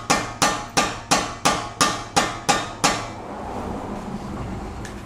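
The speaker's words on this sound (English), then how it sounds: "we're gonna use some kind of screwdriver or something that's flat to get in there and hammer that out" Eight sharp metallic hammer blows in an even rhythm on a screwdriver against an Acura RSX axle nut, each ringing briefly, then the striking stops and a low background hum remains.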